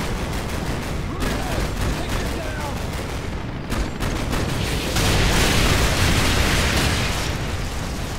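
Artillery fire during a Call of Duty Modern Warfare 2 campaign mission: dense, continuous volleys of booms and blasts roll on throughout, swelling louder in the second half, with radio chatter voices running underneath.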